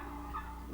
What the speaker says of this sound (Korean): 아메리카의 숲에 사는 야생 칠면조를 보십시오.